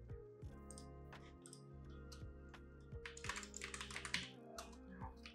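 Keys on a computer keyboard are typed in quick, irregular runs of soft clicks, close up and fairly quiet, with no voices.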